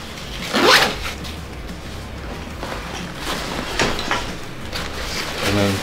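A zipper on the inner mesh pocket of a Mystery Ranch Treehouse backpack is pulled open in one quick rising zip, followed by softer fabric rustling and handling nearby.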